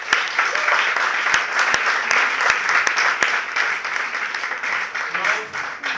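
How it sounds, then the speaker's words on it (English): Sustained applause from an audience at a Toastmasters club event, a dense steady wash of clapping that carries through the whole stretch at a fairly even loudness. "I would like to have a round of applause for yourselves."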